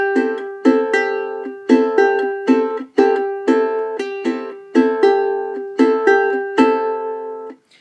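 Bossa nova fingerstyle pattern on guitar, with plucked chords played alone in a steady syncopated short-long rhythm, bass and upper notes ringing together, close and clear with no talking.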